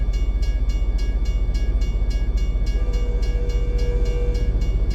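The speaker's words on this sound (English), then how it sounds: "There's the train." A freight train passes in American Truck Simulator, a steady rumbling roll with rhythmic clicking of wheels over rail joints, continuous and fairly loud for the whole stretch.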